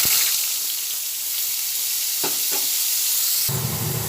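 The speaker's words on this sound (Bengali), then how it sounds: "সাদা জিরার গোটা গরম মশলাটা ভাজা হচ্ছে" Whole garam masala and cumin seeds frying in hot oil, then onion paste added to the pan, giving a steady close sizzle with a sudden louder burst of frying near the end.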